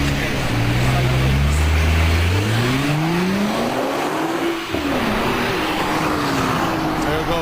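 A Nissan GT-R accelerating hard, engine pitch climbing through rising sweeps with a brief dip at a gear change, then pulling again, loud and close.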